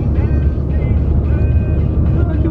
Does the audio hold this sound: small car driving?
yes